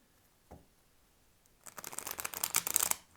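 A quiet pause with a soft tap, then a tarot deck riffle-shuffled in quick, crisp flutters that build and stop.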